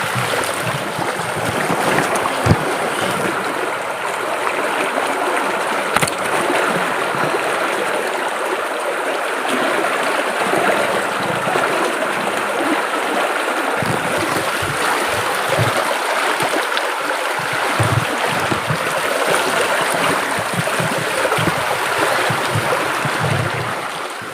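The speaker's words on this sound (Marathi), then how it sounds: "तुम्ही छान शांतपणे ह्या पाण्याचा खळखळणाऱ्या आवाज ऐकत बसा" Gurgling, flowing water from a stream where a household Ganesh idol is immersed, steady and close throughout with no talking.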